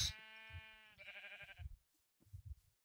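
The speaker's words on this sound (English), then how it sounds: "They're just sheep." Sheep in Minecraft bleat in two clear, nasal calls close up, one drawn out and the next shorter and wavering. Soft low thuds of footsteps come in between, with a quiet pause near the end.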